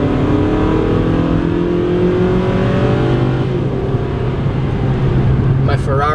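A Ferrari's engine roars loudly and steadily throughout this video game driving scene, with a rising whine as it revs and accelerates, and brief higher tones near the end.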